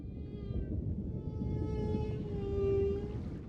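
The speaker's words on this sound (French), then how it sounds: "Ce son qui se propage sous l'eau, c'est le chant du mâle, son chant de séduction." A male whale sings its underwater courtship song, a long drawn-out tonal moan that rises and swells over a low rumbling undersea background, fairly faint and alone.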